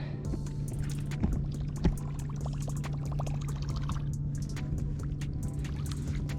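A fishing lure plops onto the water during offshore bass fishing on fluorocarbon or monofilament line. Two brief splashes stand out over a steady wash of water and boat noise.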